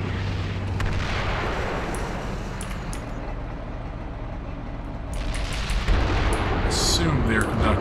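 Indirect artillery fire in the tank simulator Steel Beasts during a combined arms attack on a city, heard as low rumbling booms and distant impacts under continuous battlefield noise, growing louder near the end.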